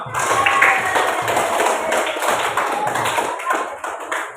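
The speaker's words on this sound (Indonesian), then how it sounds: "Tepuk tangan dulu buat kalian semua." Children in a classroom clap together in a sustained burst of applause, dense and fairly close, fading slightly toward the end with some murmuring voices beneath.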